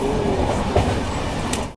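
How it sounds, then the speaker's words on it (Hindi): Jasidih–Vasco Express passenger train running just after leaving Bokaro Steel City, a close, steady rumble of wheels and carriage rattle from on board, loud and unbroken for under two seconds before cutting off. "बोकारो स्टील सिटी से भैया जसीडी वास्को एक्सप्रेस फिलहाल निकल चुकी है।"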